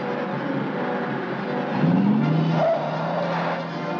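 A stolen police squad car, number 23, speeds off in a 1940s film scene: a steady engine rush rises to a brief, close tire squeal midway, then the motor pulls away.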